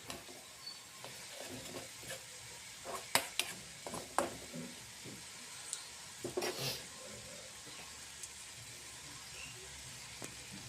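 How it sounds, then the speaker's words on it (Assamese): Masala for egg Maggi being stirred in a pan over a low gas flame, a quiet steady scraping and soft sizzle with scattered sharper clinks of the spoon against the pan, no voices. "এনেকৈ ভালদৰে লৰাই থাকিব যাতে তলত লাগি নাযায়"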